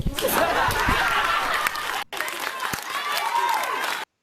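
Audience applause mixed with chuckles and crowd chatter, fairly loud and continuous, briefly cut off midway before resuming and ending abruptly.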